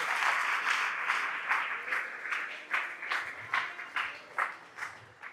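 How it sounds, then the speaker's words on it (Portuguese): Applause from a church congregation during a Lord's Supper service, a steady wash of clapping that thins into distinct, rhythmic claps toward the end. "Vamos aplaudir bem forte os dois irmãos aqui."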